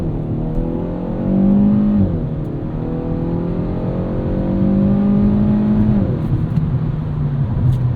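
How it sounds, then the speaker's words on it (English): A 2024 Kia Forte GT, about 200 horsepower and just over 3,000 pounds, pulls hard away from a stop sign, its engine note rising and falling through gear changes, loud and steady from inside the cabin. "Do kind of a spirited start here from this stop sign."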